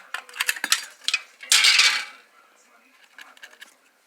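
Scissors cutting a strip from an aluminum pop can, with close, sharp metallic crinkling and snipping bursts and a louder rasping crunch midway, then quieter rustles.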